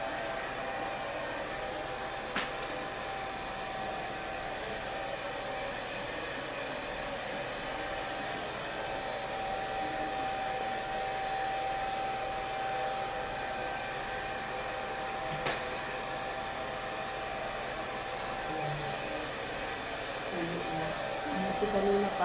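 A hair dryer blows continuously in a restroom by a swimming pool, a steady airy whir holding at one even level throughout, with faint voices occasionally under it.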